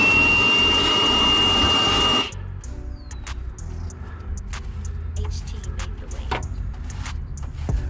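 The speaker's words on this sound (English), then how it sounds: "I'm gonna just go ahead and vacuum up one more time" A vacuum cleaner runs loudly with a steady high whine, sucking up debris from a boat floor before the transom is painted, then cuts off abruptly after about two seconds, leaving quiet scraping and shuffling sounds.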